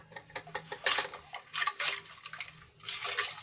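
A spoon stirs green colour into homemade liquid dish soap in a container, giving bursts of wet swishing and light clinks of utensil against the vessel, close and fairly quiet, with no talk.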